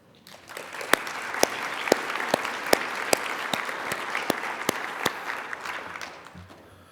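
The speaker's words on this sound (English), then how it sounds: "another round of applause for our previous presenter" At a conference plenary, an audience applauds the previous presenter, with a sustained wash of clapping that builds and then fades out near the end. Several sharp, close claps stand out above the rest.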